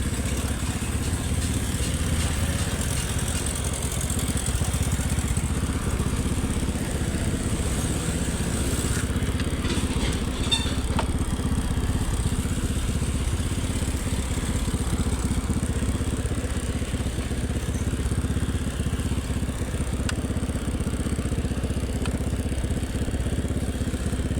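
A faulty motorcycle engine idles roughly and continuously nearby, a steady low rumble with some uneven clatter running throughout, no talking over it.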